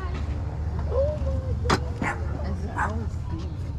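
Dogs at a garage sale give soft yips and short, rising whimpers against a low background rumble.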